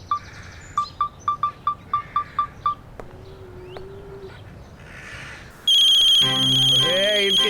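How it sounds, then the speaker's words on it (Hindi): A phone ringtone rings in a short repeated pattern of about eight chirping beeps, then pauses before a louder melodic tone bursts in near the end. "किसका फोन आ गया भाई?"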